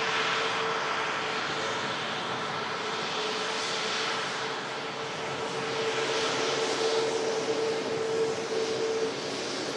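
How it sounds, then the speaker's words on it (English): Steady broadband roar of an Emirates Airbus A380 during pushback on a rainy day, a continuous loud engine wash with a faint sustained tone through it, heard alone without speech. "Yes, the Emirates A380 has started the pushback."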